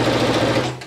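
A sewing machine stitches the fabric border of a round tablecloth in a brief, close, continuous whir with a steady low hum that fades slightly at the end.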